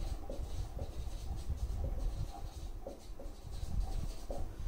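A marker or chalk scratches across a classroom board in quick, repeated strokes, with steady rhythmic scraping and tapping close by and no speech over it.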